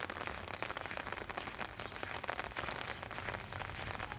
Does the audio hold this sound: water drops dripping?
yes